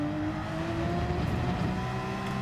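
A Porsche race car in Gran Turismo 7 holds a steady, droning engine note at high revs, loud and continuous with no talk over it.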